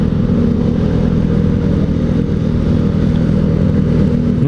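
Stock-sounding motorcycle exhaust with a slightly bassy tone, a steady loud low rumble idling or cruising close by for several seconds without pause.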